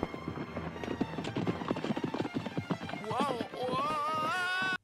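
Galloping horses in an animated film, rapid clip-clop hoofbeats mixed with a soundtrack and a whinny near the end, with a voice speaking over part of it.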